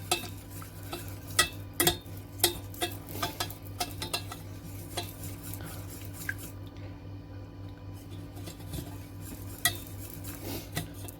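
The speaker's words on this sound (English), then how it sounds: "Gonna whisk this and make sure all my roux gets integrated with my cream" A whisk stirs roux into cooking cream in a pot, soft wet swishing with light clicks of metal against the pan, irregular taps over a steady background hum.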